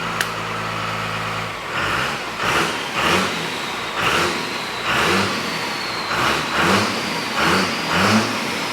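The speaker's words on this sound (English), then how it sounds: "so it's idling at like 1200 RPM" A Cummins diesel engine in a Nissan Patrol runs close by, first with a steady hum, then with a lumpy idle around 1200 RPM that pulses in rhythmic surges about once a second.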